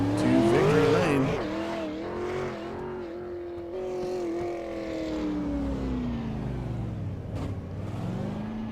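A race car at South Boston Speedway rolls onto pit road, its engine note loud and close at first, then holding a steady droning pitch that dips and rises as it slows and moves along.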